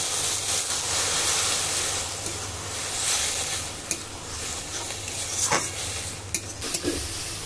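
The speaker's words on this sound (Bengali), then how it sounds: "নাড়তে নাড়তে সব ভেজে যাচ্ছে" Jute leaf greens being stirred and fried in a pan with oil, a continuous sizzle under repeated scraping stirs and a few sharp clicks of the utensil near the end.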